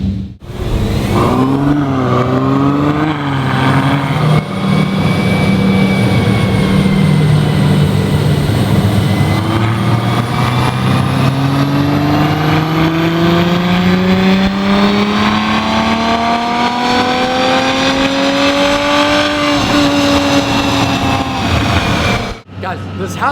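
A Ferrari 812 engine revs loudly on a windy Arctic day, its pitch climbing and falling in long sustained sweeps for about twenty seconds before cutting off abruptly near the end.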